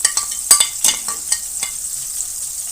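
Spice masala tipped into mutton paya frying in a pot, hissing sizzle with sharp scraping stirs and clinks of a spoon, close and loud, no talking.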